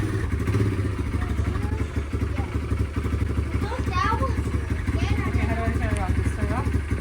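A 2024 Kawasaki KLX 140R dirt bike engine running with light throttle blips, a steady close putter with small rises in pitch, while people talk over it.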